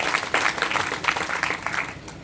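Steady applause from an audience at a business plan presentation, many hands clapping together continuously at moderate loudness, tapering slightly toward the end.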